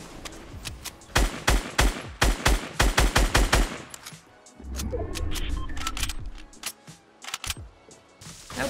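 Rapid bursts of automatic gunfire from the battle royale game Fortnite, loud and close, firing in quick rhythmic volleys before giving way to a rumbling, softer stretch of in-game noise.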